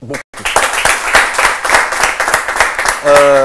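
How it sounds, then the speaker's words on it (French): A burst of applause breaks out close and loud after a brief gap, dense rapid clapping from a crowd, before a voice starts speaking over the tail end. "ça mérite beaucoup d'applaudissements"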